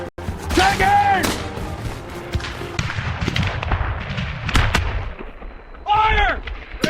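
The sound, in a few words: volley of rifle fire in Civil War battle reenactment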